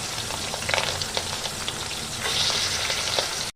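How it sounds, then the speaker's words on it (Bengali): Pieces of pangas fish frying in hot oil in a pan, a close, continuous crackling sizzle with sharp spattering pops and a brief louder surge near the end. "তেল গরম হয়ে গেছে মাছটা এর মধ্যে দিয়ে দিচ্ছি আর মাছটাকে ভালো করে সাঁতলে নেব"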